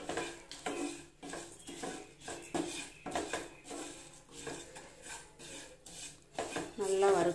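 Flattened rice (aval) roasting in ghee in a pan for a sweet kesari, stirred with a spoon. Rhythmic scraping and rasping strokes repeat close by, about one each half second, with light metallic clinks.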